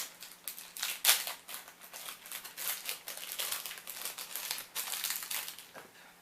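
A Disney patch package being opened by hand, with continuous crinkling and rustling of the wrapping and a few sharper snips or tears, close and moderately quiet.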